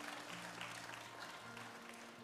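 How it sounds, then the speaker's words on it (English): Church congregation applauding to welcome a guest speaker, a steady, even wash of clapping heard faintly from a distance throughout. "give him a round applause in plantation style"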